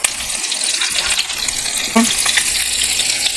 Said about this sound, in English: So the oil is sizzling. Let's put the meatballs. Let's brown them on all sides.